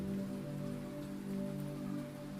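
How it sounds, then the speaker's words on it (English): Rain falls steadily and softly, a continuous gentle patter with a low, even hum underneath. No voices. "listen and let the rain do its work"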